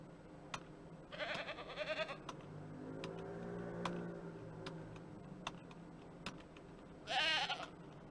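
Goats bleat in the Ranch Simulator farming game, a few short nasal calls spaced apart over low ambient game sound with light ticking clicks.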